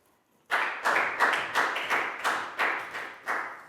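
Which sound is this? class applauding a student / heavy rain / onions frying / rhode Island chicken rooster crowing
class applauding a student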